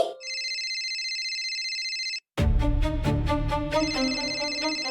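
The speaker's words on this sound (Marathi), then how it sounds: "राजसीचा फोन." A phone ringtone plays: a sustained electronic tone, a brief pause, then a brighter repeating melodic ring pattern with rhythmic chime hits.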